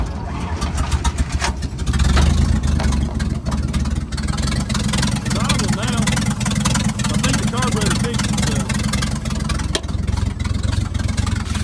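An old 1950s Dodge dump truck engine cranks, catches and runs with a loud, rough, uneven idle close by, while people talk over it.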